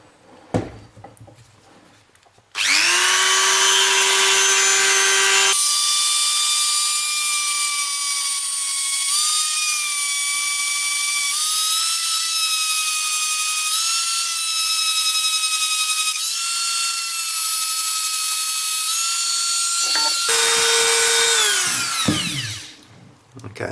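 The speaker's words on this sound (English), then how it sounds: "This is just a Stanley knife blade, and I want to cut half round in it, and I'm just going to use my Dremel to do this." Dremel rotary tool cutting into a Stanley knife blade, a loud high-pitched motor whine that starts abruptly, shifts pitch under load for about twenty seconds, then winds down.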